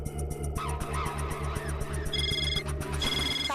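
A phone rings in a household sitcom with a call from Taarak, a short electronic ringtone sounding in two bursts over a steady, rhythmic low background hum.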